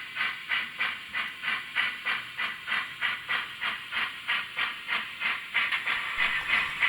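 A model steam locomotive running at scale 6 miles an hour on a Railmaster-controlled layout, its sound unit giving steady rhythmic chuffing hiss, fairly quiet and close, with no talk.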